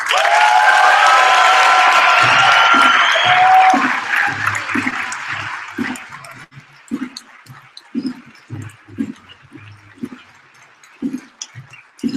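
Audience applause at a Braille Challenge awards ceremony: loud sustained clapping from a large crowd for about four seconds, fading into scattered claps over murmuring and a speaking voice.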